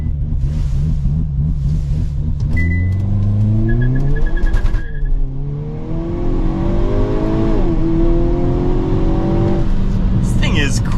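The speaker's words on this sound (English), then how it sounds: "hit active for the launch control, and then just hold the brake and gas" A 2023 Hyundai Kona N engine revs, then launches hard using launch control, pitch climbing through quick gear changes as it accelerates, loud and close.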